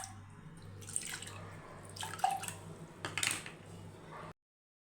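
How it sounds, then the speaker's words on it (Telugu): Water is poured into a pressure cooker holding washed moong dal, giving a few short splashing bursts and drips against the metal pot, close and fairly quiet, ending abruptly. "వాష్ చేసుకున్న పెసరపప్పులోకి 3 కప్పుల నీళ్లు పోసి"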